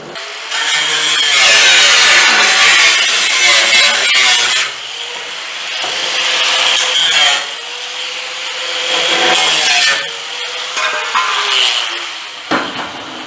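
A loud power tool cuts through a car part in a garage, a harsh, grinding, sawing roar that runs continuously for about thirteen seconds, rising and falling in intensity as the cut progresses, close to the microphone.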